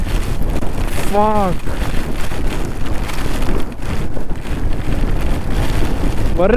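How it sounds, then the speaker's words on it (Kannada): Strong wind buffets the microphone outdoors on a rainy hill route, a rough continuous roar with gusty rumble, while a person's voice briefly rises over it. "ಏನು ಗಾಳಿ ಹೊಡಿತಿದೆ ನೋಡಿ"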